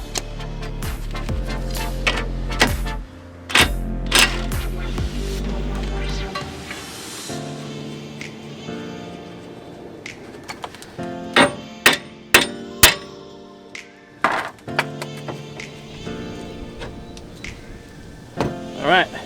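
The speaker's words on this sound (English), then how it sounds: "I can swing the hammer and hit right on the back of that hub bolt" Sharp metallic hammer strikes on the back of a hub bolt of a Jeep XJ Dana 30 axle ring out in an irregular series, some rapid and some spaced apart, loud and close, with a low rumble early on.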